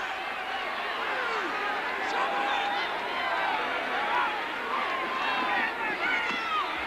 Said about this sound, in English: just listen to that crowd coming at him.